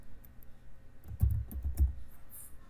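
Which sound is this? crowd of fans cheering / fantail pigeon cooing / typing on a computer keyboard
typing on a computer keyboard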